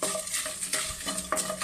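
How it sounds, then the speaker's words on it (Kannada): Byadgi red chillies and curry leaves dry-roasting in a pan for rasam, a dense close sizzle and crackle with repeated scraping and clinks of a spoon against the metal, no talking. "ಸ್ವಲ್ಪ ಕರಿಬೇವು ಸೊಪ್ಪು ಹಾಕ್ಕೊಳ್ತಾ ಇದ್ದೀನಿ ಹುರಿಲಿಕ್ಕೆ."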